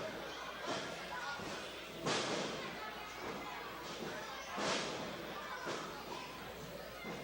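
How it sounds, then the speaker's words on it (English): Two heavy thuds come a few seconds apart as pro wrestlers trade headbutts in the ring. Arena noise runs steadily underneath, and a commentator talks over it. "I think we're having dueling headbutts."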